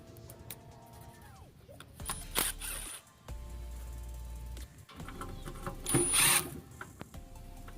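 Bolts come off a Toyota FJ Cruiser transmission pan with quiet ratchet clicks and short metallic scrapes and clatter, close but faint, in separate bursts with pauses.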